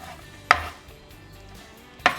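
Leftover cooked chicken is chopped into small pieces on a board, with two sharp, close knife strikes about a second and a half apart over quiet background.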